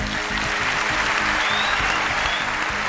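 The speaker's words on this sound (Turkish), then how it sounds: "Alkışlar beyefendiye geliyor" Steady audience applause fills a Turkish talent show stage after a performer's act, dense clapping sustained at an even level throughout.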